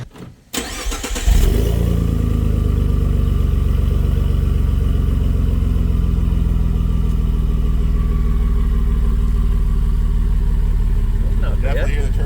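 Ford F150 EcoBoost with a custom 4-inch stainless steel exhaust starts up and settles into a loud, steady idle close by, its turbo audible in the deep rumble.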